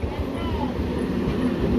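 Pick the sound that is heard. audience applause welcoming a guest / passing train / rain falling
passing train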